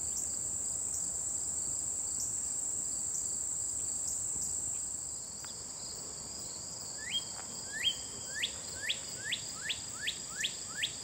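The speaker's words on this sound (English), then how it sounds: "The bird you can hear singing is a northern cardinal." A northern cardinal sings by a park pond, a run of rising whistled notes repeating quickly toward the end over a steady high insect drone.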